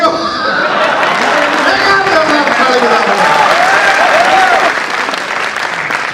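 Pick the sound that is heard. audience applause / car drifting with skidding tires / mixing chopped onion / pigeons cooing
audience applause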